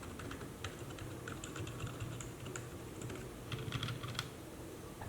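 Soft, muted typing on a keyboard fitted with Outemu Silent Lemon V1 tactile switches, a quiet run of dull key taps close by, thickening toward the end and closing with one sharper knock.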